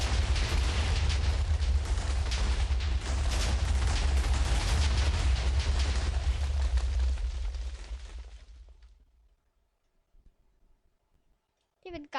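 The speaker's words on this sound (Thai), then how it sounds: "การระเบิดที่โคตรจะสุดยอด" A dense barrage of booming Minecraft explosions and crackling blasts roars continuously, then fades away into near silence before a brief final burst.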